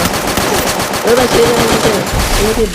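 Rapid gunfire bursts from a shooter video game play close and loud and nearly nonstop, with game sounds layered over a steady background.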